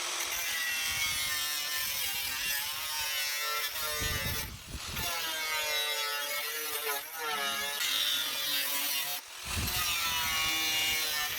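A power tool grinds steadily through the lid of a metal jerry can being made into a barbecue, a close, continuous cutting whine with brief pauses.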